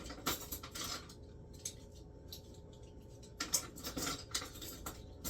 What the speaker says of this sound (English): And let me grab my spoons.